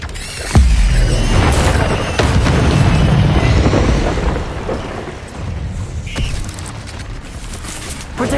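A fire spell cast in Hogwarts Legacy, a sudden loud booming burst followed by a roaring, crackling rush that fades over several seconds, with a voice calling out near the start.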